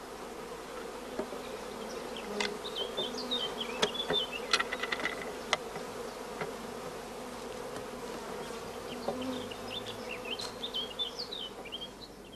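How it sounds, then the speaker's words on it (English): Honey bees hum steadily inside a queen-rearing starter colony where young bees are emerging, with close, continuous buzzing and occasional louder flybys, and no voices. "many young bees are emerging in the starter colony"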